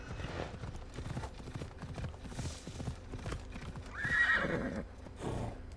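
A horse in the video game Assassin's Creed Odyssey trots with steady clip-clop hoofbeats, then gives a short whinny near the end, all fairly quiet and close.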